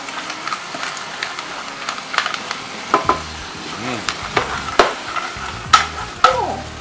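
Sizzling stir-fry in a wok with repeated metallic clanks and rattles of clam shells tossed against the pan, busy and close.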